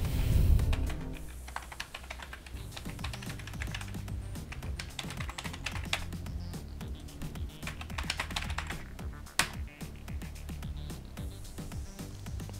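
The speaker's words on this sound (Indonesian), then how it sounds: "Oke, agak sedikit keras keyboard gua ya." Rapid, clattery keystrokes on a loud keyboard, steady and close, with a dense run of clicks and one sharper tap near the end.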